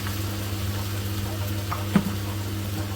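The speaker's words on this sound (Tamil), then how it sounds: "லைட்டாக வதக்கினதுக்கப்புறம் இந்த உருளைக்கிழங்க போடுறோம்" Potatoes sauté for bajji in a pan, giving a steady, soft sizzle over a low hum, with one brief clink of a utensil midway.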